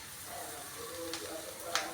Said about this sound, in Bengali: এখন আমি দিয়ে দিচ্ছি টমেটো। এই টমেটোটা কুচিয়ে রেখেছি